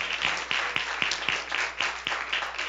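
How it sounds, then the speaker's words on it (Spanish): Rhythmic group clapping at a Christmas party, with claps landing in a steady beat about twice per second over a bed of scattered hand claps, moderately loud. "Un aplauso, un aplauso."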